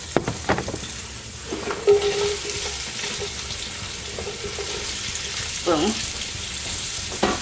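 Onion and celery frying in a pot, a steady broadband sizzle with a few sharp clatters of stirring and utensil knocks, close and moderately loud, with a brief spoken word early on.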